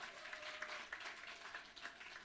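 A seminar audience at a business lecture applauds, a faint, distant wash of many hands clapping with uneven swells throughout.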